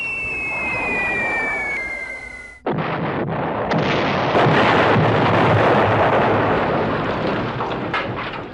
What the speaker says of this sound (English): The B-17s drop their bombs